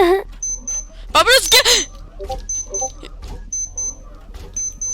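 A robot in the Roblox game Arsenal during a slaughter event emits repeated short high double beeps at steady intervals, under a player's excited talk and a brief squeal.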